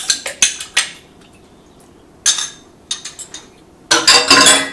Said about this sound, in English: I'm going to add 2 eggs.